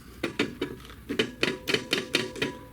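A loose metallic rattling of Ford DPS6 transmission bolts, about ten quick clattering knocks in uneven bursts, close by with no talking.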